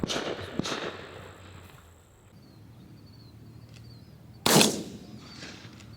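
Shotgun blasts ring out during an outdoor dove hunt: two fainter shots early, then a single loud, close report a few seconds later, amid quiet field ambience.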